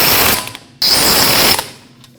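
A ratchet snugging hub assembly bolts on a 2014-2023 Jeep Cherokee, close and loud, with a rapid clicking burst, a pause, then a second longer run of clicks.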